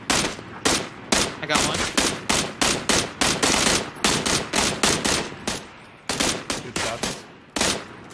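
Gunfire in the video game PUBG as a squad shoots at a vehicle's driver: a long run of loud, sharp shots in rapid bursts with brief pauses between volleys, and a voice speaks briefly amid the firing.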